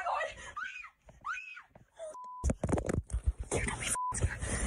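A woman screams and wails in high, rising cries, then loud scraping and thumping bursts with brief electronic beeps, near and intense.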